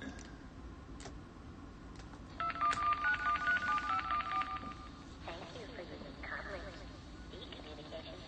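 Telephone dialing in the point-and-click game Spaceship Warlock: a quick run of tonal keypad beeps in the middle, preceded and followed by clicks and ticks, with a person talking over parts of it.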